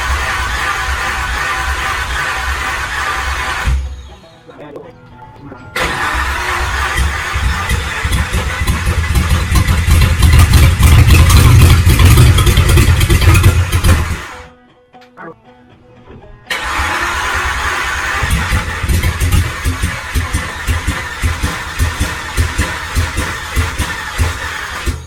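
A rat rod car engine cranks and catches in two bursts, running loud and rough for several seconds each time, with short quiet gaps between attempts; no talking over it.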